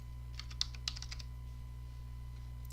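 Text being typed on a computer keyboard: a quick burst of light, close key taps in the first second, then mostly quiet with a faint steady hum underneath.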